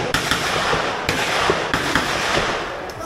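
An AK-47 rifle fires at a shooting range, giving several sharp, loud reports spaced irregularly over a constant close background roar.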